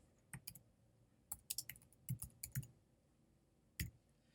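Quiet, close typing on a computer keyboard while writing a script: scattered key clicks in short irregular clusters with gaps between them, and no voices.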